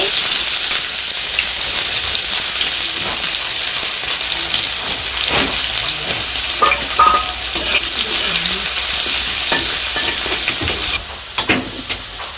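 Onions and spice paste frying for a village-style chicken curry, a steady broadband sizzle running throughout with occasional stirring scrapes and clinks, close and fairly loud.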